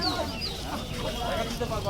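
Native chickens cluck in a crowded rural poultry market, with roosters among the birds. Steady close clucking runs through constant voices and market bustle.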